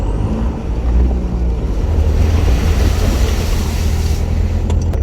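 A vehicle drives along a lumber truck track in Queensland and splashes through a puddle, a loud continuous rush of water and engine rumble with wind buffeting, with no voices over it.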